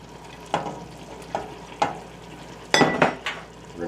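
Shrimp and jambalaya ingredients sizzle and fry in a pot, broken by several sharp clatters and scrapes of a utensil stirring against metal, close and loud with no talking.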